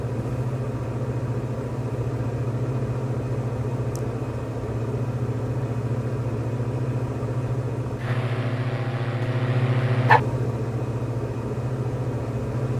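A Diamond DA40N light aircraft engine in a flight simulator game drones steadily and continuously, with a brief shift in tone partway through and no talking over it.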